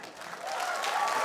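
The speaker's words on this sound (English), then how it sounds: "Clap if you're here from TikTok." A stand-up comedy audience breaks into clapping, the applause swelling from fairly quiet to a fuller, steady patter over a brief moment, with a faint crowd murmur underneath.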